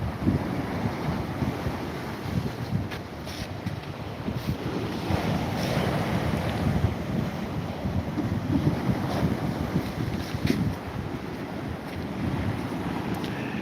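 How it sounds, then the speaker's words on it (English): Sea waves wash onto the shore on a walk near Withernsea, a steady roaring surf under gusty wind buffeting the microphone, continuous and fairly loud with no voices. "And there's your sea coming in."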